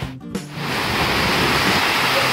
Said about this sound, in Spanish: Para este momento tenemos una inmensa cascada frente a mí.